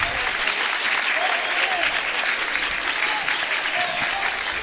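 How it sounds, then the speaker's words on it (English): Home basketball fans at a high school game between the Goreville Blackcats and Waltonville Spartans rise and clap, a steady wash of crowd applause in a gym with commentary heard faintly beneath. "Blackcat fans coming to their feet here, clapping."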